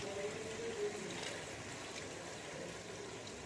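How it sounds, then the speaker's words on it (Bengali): Hot water poured from a measuring bowl into rice for a jackfruit and goat meat dish, a soft steady trickling wash, close and continuous over a few seconds with no talking. "এবারে এইটা গরম জল, আমি গরম জল আগেই করে রেখেছি, গরম জলটা মেপে দিয়ে দিচ্ছি।"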